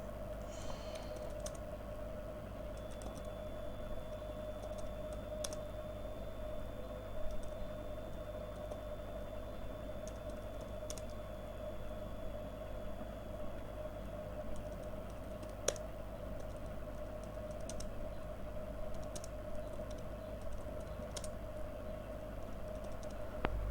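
Steady typing on a computer keyboard while a C++ code comment is entered, continuous light key clicks over a constant background hum, no speech.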